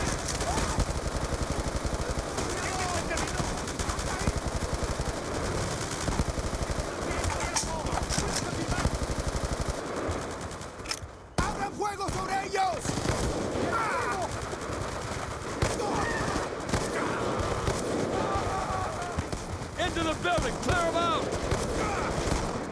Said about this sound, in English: Shooting everybody.